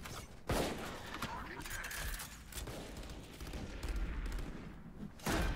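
Sustained video game gunfire during a tactical shootout, with dense rattling shots and mechanical clatter running throughout, ending in a sharp louder burst.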